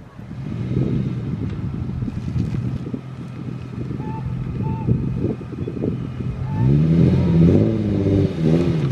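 A drift car fitted with a Wisefab angle kit revs through a U-turn, its engine note rising and falling in uneven surges. Wind buffets the microphone, and a few short tones cut through midway.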